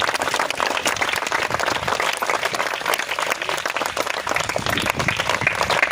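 An audience claps steadily in applause to welcome guests at an ambulance donation event for children at a home, the dense clapping sustained and fairly loud throughout with no voices over it.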